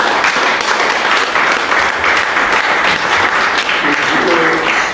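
A church congregation applauds and cheers in acclaim during a worship service, steady dense clapping filling the whole stretch with no pause.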